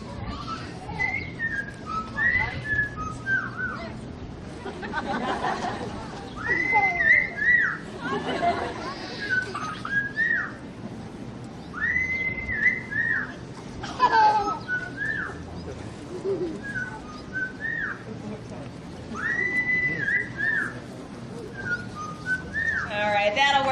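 A parrot whistles the Andy Griffith Show theme in clear, repeated melodic phrases, close and bright, while a person talks and crowd chatter with children's voices fills the background.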